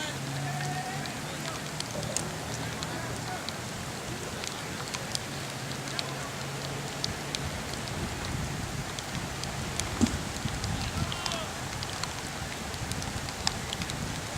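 Steady rain falling outdoors during a kickball game, a constant soft hiss with scattered drop ticks, faint and even throughout, with a low rumble early on.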